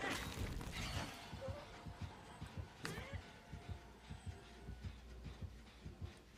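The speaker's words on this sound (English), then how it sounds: "Heartbeat, heartbeat." Low, steady heartbeat thuds pulse through a horror video game, a regular throbbing rhythm near the front beneath a faint hum, with a sharp crash in the middle.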